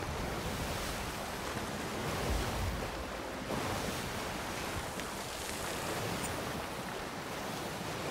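Ocean waves wash steadily in a sailing video game, a constant broad rushing surge with wind noise, no voices over it.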